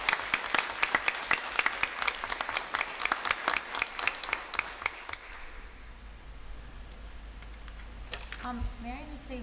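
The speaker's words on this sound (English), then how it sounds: "I'd like to give him a round of applause in his honor" A board of education meeting audience applauds in someone's honor, a patchy round of separate claps that fades after about five seconds into quiet room noise.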